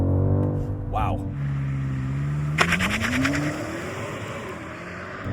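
A 2025 BMW M5 Touring launches hard from a standstill, engine note climbing steadily through the rev range as it accelerates, heard from inside the cabin with a voice exclaiming over the rising drone.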